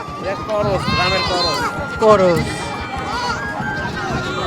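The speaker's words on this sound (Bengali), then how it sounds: "এটা কি জাতের ছাগল এটা" Goats bleat repeatedly with wavering cries amid a busy livestock market crowd, while voices talk loudly over the animals.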